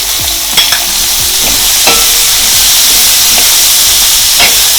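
Finely chopped onions frying with ginger garlic paste for tandoori chicken gravy, a loud, steady close sizzle with occasional scraping stirs.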